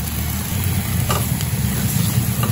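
Bitter gourd and eggplant slices frying in a little oil with turmeric over a medium flame, a steady close sizzle with faint stirring scrapes and no voices.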